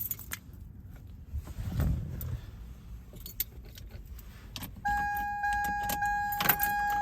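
Keys jangle and click in the ignition of a 2001 Toyota Tacoma 4x4 pickup, followed by a steady electronic warning chime as the power comes on, all close up inside the cab.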